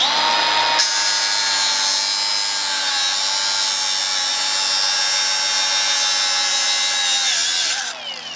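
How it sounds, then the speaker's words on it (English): An angle grinder fitted with a cutting wheel slices through a steel brake spring, a loud, continuous high-pitched whine that holds steady for several seconds before cutting off at the end. "So I just got a cutting wheel here on the grinder. Just be really careful and cut the spring here."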